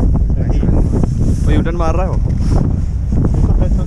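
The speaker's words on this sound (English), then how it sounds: "So the boat has started now." A whale-watching ship sets out from Reykjavik, Iceland. Heavy wind buffets the microphone over a low engine and water rumble, and people briefly talk nearby.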